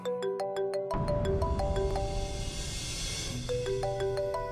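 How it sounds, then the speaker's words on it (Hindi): A mobile phone ringtone plays a bright repeating electronic melody indoors in a home, tinkling notes over a steady backing tone, loud and close, with no voices. "किसका फोन है?"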